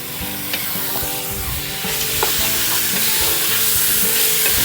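Food fries loudly in a pan at a busy campsite, a dense continuous sizzle with occasional stirring clicks and scrapes, close up and without talk.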